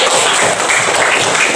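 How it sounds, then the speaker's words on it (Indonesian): A group in a classroom claps together, a short loud burst of dense, steady applause close by. "Tepuk dulu untuk kita semua."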